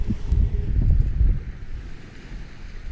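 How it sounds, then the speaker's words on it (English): Ocean waves and wind at Sandy Hook beach, a brief surge of low rushing surf and gusting wind buffeting the microphone, then a softer steady wash. "take in some more ocean, guys."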